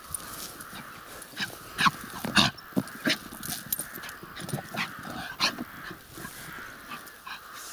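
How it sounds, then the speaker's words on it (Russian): A farm dog kept near sheep barks and yips in a series of irregular, fairly faint bursts spread over several seconds, with brief whimpering sounds between them. "Ну-ка, лаять будет сейчас"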